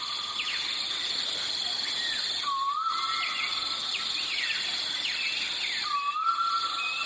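A male koel calling around midnight, with two rising whistled notes several seconds apart, fairly distant, over a constant high chirring of insects and background hiss.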